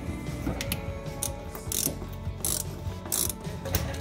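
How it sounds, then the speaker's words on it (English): Ratcheting clicks come in quick bursts as hose clamps are tightened on a replacement fuel filler hose on a 120 Series vehicle, close and steady over a low background hum. "Then I just do up those hose clamps."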